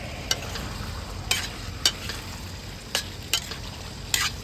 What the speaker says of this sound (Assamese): অলপ লৰাই দিওঁ।